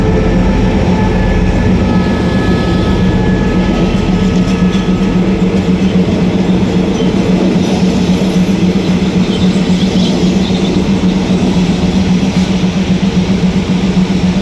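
Rapid train 142, hauled by a QSY-class locomotive, pulls out of Sisaket railway station with a steady loud rumble of wheels and carriages, a constant low hum and faint clatter throughout, with no voices.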